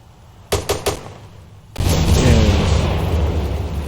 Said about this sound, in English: So we would test out the smoke system.